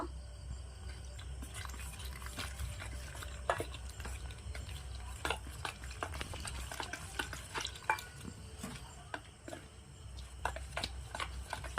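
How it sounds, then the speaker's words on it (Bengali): Flour dough mixed with salt and a little water is kneaded by hand, giving soft, irregular squishing and light slapping taps, close and quiet, with no talking. "অল্প অল্প জল দিয়ে ময়দাটা মাখিয়ে নেব।"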